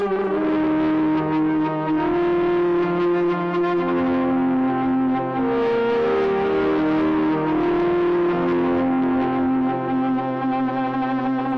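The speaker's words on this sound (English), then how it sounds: "I think for this one I want a little bit of a heavier distortion" Synthesizer playing a sustained, gliding melodic line through heavy distortion, loud and continuous with a dense buzzy tone and steady level, no voices.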